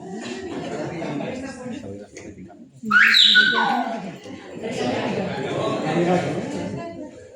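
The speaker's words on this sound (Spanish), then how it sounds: "el lenguaje silbado es capaz de traducir, o sea, de silbar cualquier lengua. Por ejemplo, el japonés." A Silbo Gomero whistler renders Japanese as whistled language, a loud bright whistled phrase rising out of a room of chattering voices and laughter that carry on around it.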